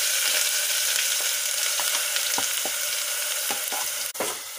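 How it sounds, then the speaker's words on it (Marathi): Onion, garlic and ginger paste frying in hot oil for a mutton curry makes a steady, moderate sizzle close by, broken by soft clinks and scrapes of stirring, with no talking. "त्याला चांगलं तेल सुटेपर्यंत आपण तळून घेऊ त्याला"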